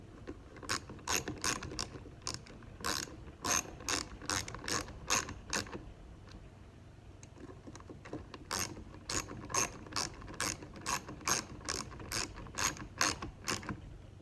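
Spring drum of a Favero fencing reel being wound: rapid ratchet-and-pawl clicking, close and crisp, in two long rhythmic runs separated by a brief pause.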